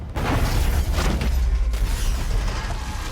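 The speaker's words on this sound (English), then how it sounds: "An explosion goes off." A film-scene explosion on a train, set off with fuel, newspapers and clothes, that blows through the floor panels: a loud boom followed by rumbling and creaking debris, alone without speech.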